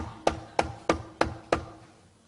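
Five evenly spaced knocks on a wooden door, crisp and fairly close, each with a short decaying ring, alone with no voices.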